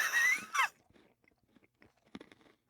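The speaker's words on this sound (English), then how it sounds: "It's crunching." Someone takes a single hard bite of a Butterfinger candy bar, giving a few quiet, brittle crunches and chewing clicks close to the mic after a brief high squeal at the start; no talking.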